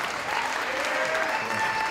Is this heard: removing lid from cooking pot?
no